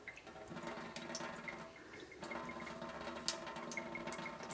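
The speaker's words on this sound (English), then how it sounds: "Just a little bit of water." Water trickling and pouring over a homemade filo cheese pie (tiropita), a steady soft splashing stream with small gurgles, quiet and close, no talking.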